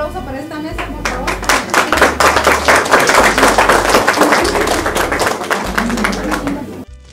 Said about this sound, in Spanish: un aplauso para esta mesa, por favor